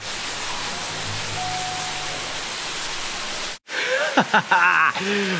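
Water rushing back into a gorge near waterfalls, a steady loud broadband roar that cuts out abruptly midway, then resumes with a person speaking over it.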